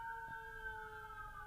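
Distant emergency vehicle sirens wail in steady, sustained tones, faint and continuous over quiet background with no talking.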